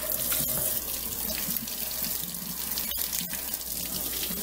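Tap water runs steadily while hair is rinsed at home after a perm, a constant close splashing stream with brief soft knocks and no talking.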